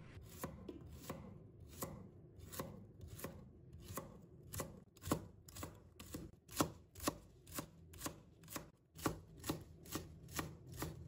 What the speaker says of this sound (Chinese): 再准备几根蒜苗，把它切成小粒